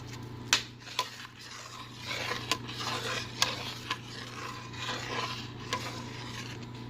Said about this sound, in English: Please don't forget to stir, it will stick to the bottom